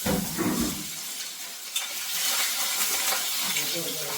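Ripe plantain sautéing in a pan while cooking a Kerala dish, a steady close sizzling hiss with faint stirring scrapes throughout.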